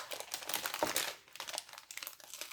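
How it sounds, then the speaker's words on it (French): Gift wrapping paper crinkles and tears as a present is unwrapped, a close, busy run of rustling rips and crunches lasting a few seconds. "Oh bah si, ça se déchire."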